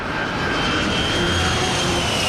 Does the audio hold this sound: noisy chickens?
no